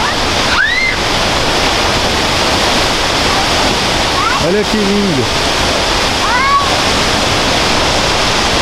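Waterfall near Pucon, Chile, roaring as a loud, steady broadband wash of falling water from close by, with a few short excited voices speaking over it.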